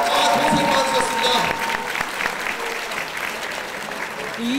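A boxing crowd applauds both fighters after a twelve-round WBA Asia lightweight title defence, with dense clapping loudest at first and then settling to a steady level. There is no talk over it.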